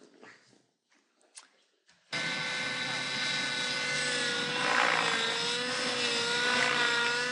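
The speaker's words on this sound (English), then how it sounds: "here what we're going to watch is a helicopter flying a complicated maneuver" A helicopter flying a complicated back-and-forth tick-tock maneuver roars in suddenly after a few quiet seconds, a loud, steady rotor and engine drone with a shifting pitch.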